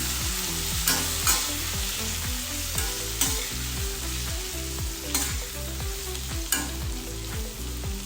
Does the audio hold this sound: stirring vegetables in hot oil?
yes